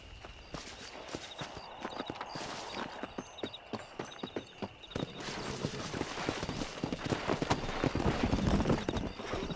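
Horse hooves clip-clopping steadily while riding in the Red Dead Redemption video game, a rhythmic trot of repeated hoof strikes that grows louder and busier toward the end, with faint game ambience beneath.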